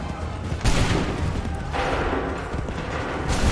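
Musket volley fired on command in the video game Assassin's Creed 3, dense crackling bursts of massed gunfire that swell and overlap into a loud, sustained roar across the moment.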